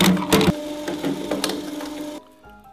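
A plastic shredder grinds and crunches plastic, close and loud with irregular cracking snaps over a steady motor hum, then the noise drops away to a quiet whir.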